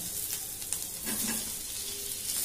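Tomatoes go into a pan of frying onions for egg curry, setting off a steady close sizzle with stirring scrapes, loud and continuous, no voices.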